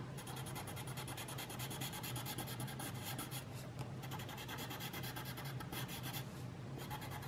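Colored pencil rubbed and blended over a drawing with a colorless blender pencil, a steady close scratchy scribbling texture that continues without pause throughout, with no talking.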